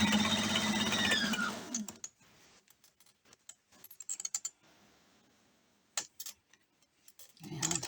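A home sewing machine stitching quilt pieces with a quarter-inch seam, a fast close whirring run that stops after two seconds, followed by scattered clicks and handling sounds, then the motor starting again.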